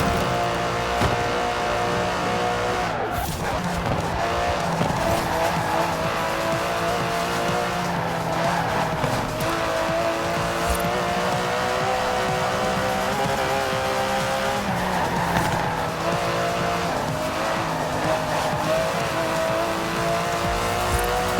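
Aston Martin DB11 driving in the racing game Forza Horizon 4, a steady loud engine drone with tyre squeal and skidding throughout, blended with game music.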